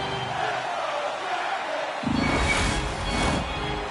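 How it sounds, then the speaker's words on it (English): Playoff hockey arena crowd at a Toronto Maple Leafs versus Columbus Blue Jackets game, a steady murmur that swells into a loud roaring cheer about halfway through and stays high to the end. "You can feel the energy in this crowd"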